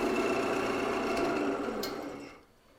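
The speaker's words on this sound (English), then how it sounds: "We'll stop the lathe there" A wood lathe spins a turned box after sanding through the grits, a steady close whirring hum that winds down and fades as the machine is stopped.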